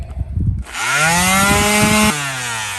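A palm sander fitted with 400 grit sandpaper starts up on a fiberglass boat hull, rising into a loud, close, steady buzzing drone after some brief handling noise.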